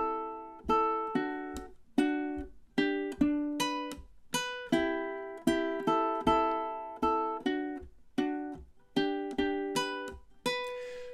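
Ukulele picking the first four bars of the outro of a song, a series of bright plucked notes and chords in a steady rhythm, each ringing and decaying, heard up close with no talking.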